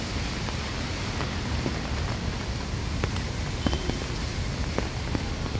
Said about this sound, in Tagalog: Ayan, ulan.